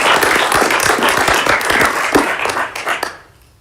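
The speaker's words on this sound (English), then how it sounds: "a round of applause for all of you" An audience at a university Board of Visitors committee meeting applauds campaign participants, lively close clapping with distinct individual claps that tapers off and stops near the end.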